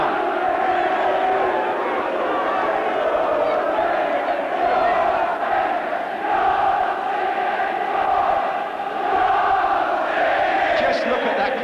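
A big football crowd at an Oxford United v Everton match in January 1984, a steady loud roar of massed voices with chanting and swells that never lets up.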